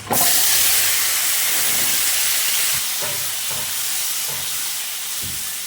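Yam pieces drop into hot oil seasoned with whole cumin, in a pan where hilsa fish head was fried. A loud, close burst of hissing and spattering follows, then a steady frying sizzle with occasional pops and no voices.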